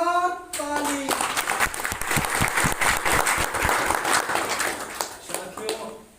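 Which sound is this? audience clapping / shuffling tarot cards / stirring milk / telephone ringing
audience clapping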